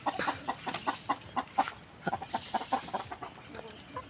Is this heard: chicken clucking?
yes